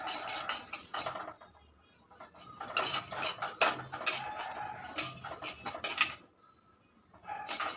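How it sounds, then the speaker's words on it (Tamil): Cumin seeds dry roasting in a pan, stirred with a metal spoon: bursts of scraping, clinking and rattling against the pan with short quiet gaps between, close by. "இந்த சீரகமும் நல்லா கொஞ்சம் வாசம் வர அளவுக்கு வறுத்துக்கலாம்"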